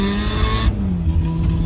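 A Mazda RX7 rotary engine swapped into a Ford Ranger, with a slight miss at the top end, holds a loud, close, steady high rev with a buzzing tone that shifts slightly partway through.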